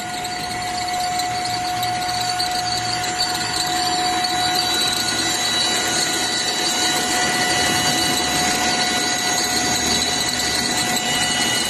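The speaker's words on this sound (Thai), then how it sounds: "ก็ทาทาเป็นเครื่องยนต์ดีเซลครับเงียบชิบครับผม" A Tata diesel pickup engine idles steadily and loudly, a constant droning hum with a faint whine riding on top, with no voices.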